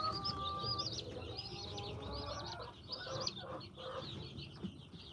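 Young chicks huddled under a heat plate on a cool morning, a dense chorus of high, overlapping peeps and soft chirps over a low murmuring background, continuous and fairly close, with no talking.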